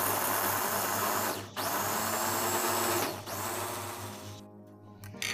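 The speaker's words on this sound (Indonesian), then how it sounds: "Lanjut, ini kita chopper bumbunya sampai" An electric chopper whirs loudly while grinding spices with shrimp paste for sambal, a close steady motor drone that drops out briefly twice before stopping.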